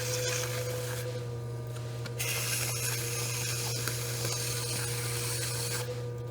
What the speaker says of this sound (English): take a wooden knife, and I'm going to clean up the outside edge of my plate here